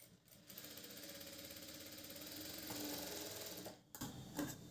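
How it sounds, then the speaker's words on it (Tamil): A sewing machine stitching a front dart on a blouse runs in a steady, fast mechanical whir for about four seconds, stops briefly, then gives a few short bursts. "அதே மாதிரி ஒரு 1/2 இன்ச்சில் இது வரைக்கும் ஸ்டிச் பண்ணிக்கலாங்க."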